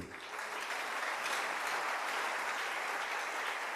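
A church congregation applauds during a Sunday service, sustained dense clapping from many hands at an even, moderate level, slightly distant, without voices over it.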